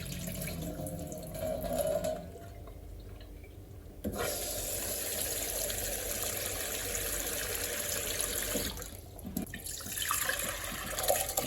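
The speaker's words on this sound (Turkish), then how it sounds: "Suyu şeffaflaşana kadar yıkayıp süzelim." Soaked green lentils rinsed under a running kitchen tap, water splashing steadily into a bowl or strainer with brief pauses and changes in flow, close and fairly loud, no talking.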